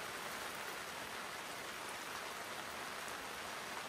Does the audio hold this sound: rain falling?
yes